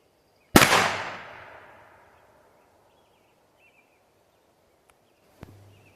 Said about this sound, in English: First up, 22 Stinger out of a Walther P22.